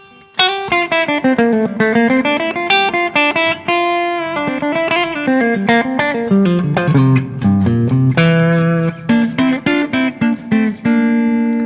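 A steady, busy guitar melody weaving through a Dorian-mode phrase with bright, ringing notes, played continuously and close up without pauses.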